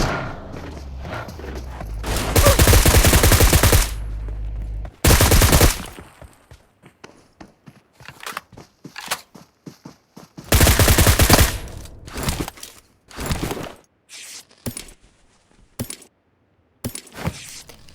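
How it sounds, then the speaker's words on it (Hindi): Automatic gunfire during a battle royale video game squad fight, with long, loud sustained bursts of rapid fire broken by shorter volleys and scattered sharp clicks and single shots. "जहाँ गन की साउंड आ रही थी"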